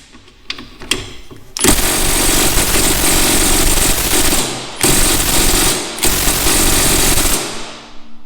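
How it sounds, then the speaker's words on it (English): Pneumatic impact wrench hammering on a stubborn 14mm rear shock bolt of a 2006–2011 Honda Civic, a few short taps leading into long, loud, rapid rattling bursts broken by two brief pauses, close and without talk. "the electric impact wouldn't touch this bolt, so I'm going to the pneumatic"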